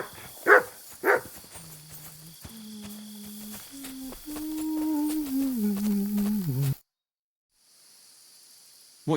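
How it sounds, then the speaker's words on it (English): A dog in the video game Kingdom Come: Deliverance 2 gives two sharp barks, then a run of drawn-out whimpers and whines rising and falling, close and clear, before a sudden cut to near silence. "Good dog, Mutz."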